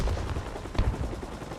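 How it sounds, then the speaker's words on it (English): M60 machine gun firing in a combat video game with Turkish forces assaulting a desert fortress in Iraq, a faint distant rattle of rapid shots over a rumbling battle background. "M60 from way down the road takes shots out on the buildings"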